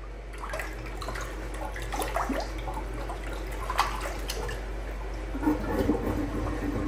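A plunger works a clogged toilet, pushing water through the bowl with repeated sloshing, gurgling plunges, close up and irregular, against a low steady hum.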